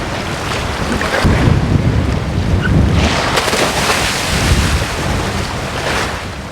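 High swells in the Mediterranean churn and slap around a dive boat, a loud, rolling roar of surf with heavy wind buffeting the microphone, rising and falling in surges and with no voices.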